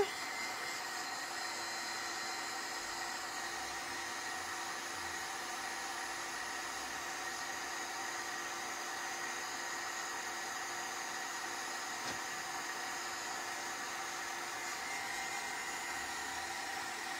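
A heat tool or hair dryer blows steadily on paint on a mixed-media frame being given a metal and rust finish, a constant close whooshing hiss that runs unbroken throughout with no talk.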